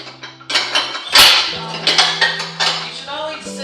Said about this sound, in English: we're going to sift that first.